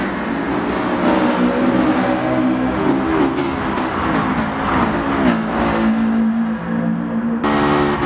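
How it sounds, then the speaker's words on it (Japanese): A VTEC car engine revs with harmonic tones that climb and shift through gear changes, loud and continuous, in the racing game Gran Turismo Sport on the Tokyo Shuto Expressway course. "飽きが来ない、エンジン音ですね。"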